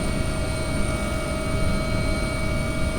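An aircraft engine drones steadily in flight as the craft readies to land, a constant loud hum with fixed tonal whine and no voices.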